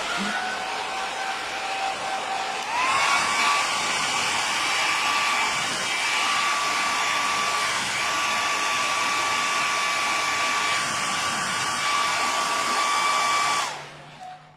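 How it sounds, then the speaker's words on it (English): A hairdryer blows steadily on a watercolour painting of a shell, a close, constant whine that shifts up in pitch early on, runs evenly for about eleven seconds and then cuts off, with no talking. "now I'm going to use my hairdryer because I just want to dry that off completely"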